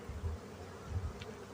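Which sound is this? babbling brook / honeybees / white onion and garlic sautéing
honeybees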